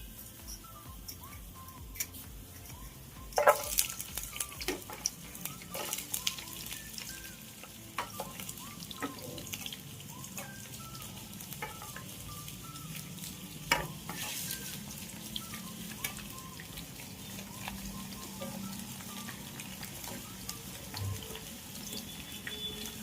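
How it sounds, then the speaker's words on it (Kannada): Chopped masala ingredients for a wedding-style mutton curry fry in oil, with a soft continuous sizzle broken by scattered clinks and scrapes of a spoon stirring the pan, no talk. "ಈ ಐಟಮ್ನೆಲ್ಲ ಈ ಆಯಿಲಲ್ಲಿ ಹಾಕಿ ಚೆನ್ನಾಗಿ ಫ್ರೈ ಮಾಡ್ಕೊಳ್ಳೋಣ"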